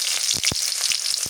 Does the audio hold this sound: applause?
no